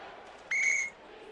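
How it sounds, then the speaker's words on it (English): A referee's whistle at a 1976 NCAA Tournament basketball game, Rutgers against St. John's, gives one sharp, loud blast of just under half a second above faint arena crowd noise. "a whistle is going to go offensively"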